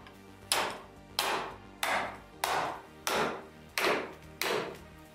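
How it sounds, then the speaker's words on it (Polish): A hammer striking in a barn: seven sharp, evenly spaced blows about two-thirds of a second apart, each ringing briefly before the next, at moderate loudness with no talk. "Poproszę ten młotek."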